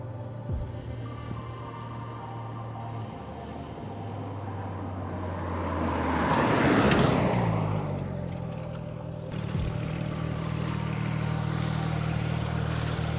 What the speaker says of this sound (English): That car sounds so good